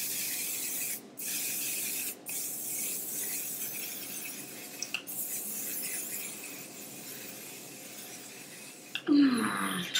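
A One Size Until Dawn makeup setting spray gives a steady hissing spray in long bursts with brief pauses between them, close and fairly loud, ending with a short clatter.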